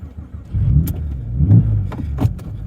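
A Porsche 911 996 Carrera 4S engine cranks and catches, rising into a brief rev before settling, loud and close with no talk.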